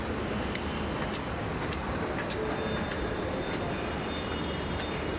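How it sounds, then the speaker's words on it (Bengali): A Dhaka metro rail train heading toward Mirpur 11 produces a steady, enveloping rumble and roar, with faint high clicks and squeals on top and almost no talk. "বাবা আজকে প্রথমেই যাচ্ছে, মেট্রো রেলে উঠবে।"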